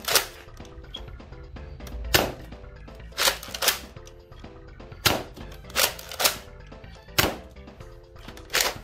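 A thrifted toy blaster firing: sharp, loud snapping shots at irregular intervals, about ten over several seconds, close by, with light clicks and handling noise between them.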